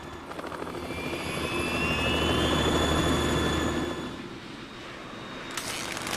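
A Harrier jet in the video game Metal Gear Solid 2, a loud sustained engine roar with a rising whine that swells and then fades away.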